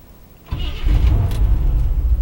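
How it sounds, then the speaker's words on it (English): A 1971 truck's big block V8 engine cranks and fires up, then settles into a loud, steady, rumbling idle close by, with no talk. "Fires right up, baby."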